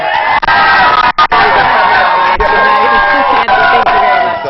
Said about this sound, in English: Lots of cheering